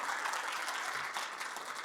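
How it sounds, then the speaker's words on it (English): Dense, steady applause from an audience fills the whole stretch, an even wash of many hands clapping at constant loudness with no pauses. "can we have a round of applause for Tom and what he's done and what he's did"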